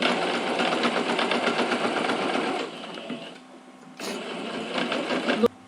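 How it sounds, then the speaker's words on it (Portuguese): A sewing machine stitching fabric for a small toiletry bag, with a backstitch: a fast close mechanical whir that stops briefly partway, then resumes, ending with a small click. "Faço o retrocesso e vou costurando."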